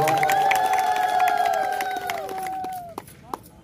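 At a 2024 election rally in Pipili, Odisha, a crowd claps and cheers loudly with a sustained tone over it, then the noise fades to a few scattered claps.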